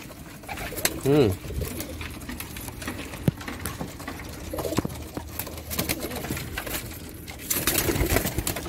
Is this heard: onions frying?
no